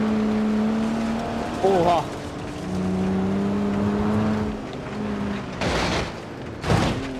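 An off-road car engine in BeamNG.drive revs in long droning tones during a muddy multiplayer drive, with a loud surge near the start and two sharp bursts toward the end. A voice briefly exclaims over it.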